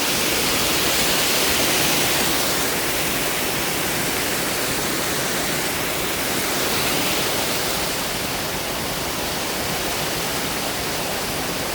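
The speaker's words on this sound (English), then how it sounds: "This is the river I gotta cross up farther where it meets Lake Superior." A river rushes steadily near where it meets Lake Superior along the North Country Trail between Grand Marais and Tahquamenon Falls, a loud, constant broadband roar of flowing water filling the whole span, close by and with no voices.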